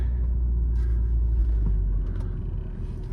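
A car cruising in second gear after a smooth downshift, heard from inside as a steady low engine and road rumble with faint rattles, moderately loud and without talk.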